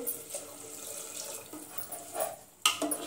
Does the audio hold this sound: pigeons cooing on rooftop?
no